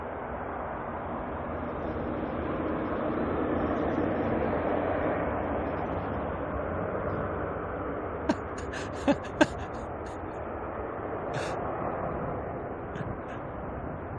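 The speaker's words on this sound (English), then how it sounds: "departing now, Qantas 444, I believe it is." A Qantas airliner departing Auckland Airport makes a broad, steady jet roar that swells and slowly fades, with a few sharp clicks and knocks close by toward the end.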